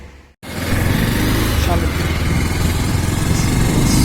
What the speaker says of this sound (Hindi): तो गाइस हम लोग अपनी बाइक लेकर निकल चुके हैं